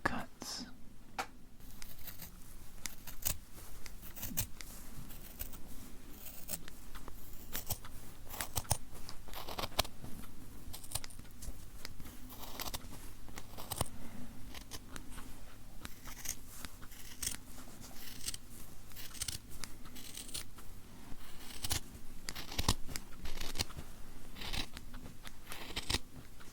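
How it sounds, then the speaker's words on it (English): Small scissors snip repeatedly through cloth in a steady stream of crisp cuts, close up, with faint murmured speech now and then. "I am going to use these little scissors, these little tiny scissors I found, to cut it free"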